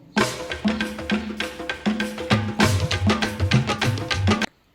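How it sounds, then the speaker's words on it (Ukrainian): Drums beaten in a steady rhythm, with tonal booming hits and ringing cymbal-like crashes, loud and continuous for several seconds before stopping abruptly. "так звучать барабани."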